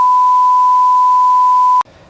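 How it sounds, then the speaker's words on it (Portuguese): A steady electronic beep tone holds one pitch for nearly two seconds, loud and clean, then cuts off abruptly into near silence. "toca o bip"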